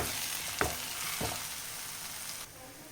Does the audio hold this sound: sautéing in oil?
yes